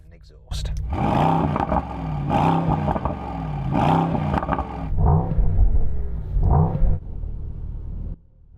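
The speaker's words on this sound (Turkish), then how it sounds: "bu arabanın çıkardığı gürültüyü bahane etmeme gerek yok. Çünkü AMG egzozu nasıl ayarlayacağını biliyor" A Mercedes-AMG GT 63 exhaust roars loudly and close, rising and falling through several surging revs in a rhythmic series, then cutting off abruptly.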